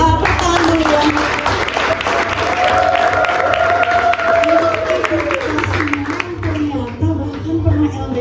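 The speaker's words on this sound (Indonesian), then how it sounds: "Tepuk tangan dulu ya." A live audience at a book talk claps loudly and steadily for several seconds, a dense wash of many hands with a crowd murmur, while a voice talks over the applause.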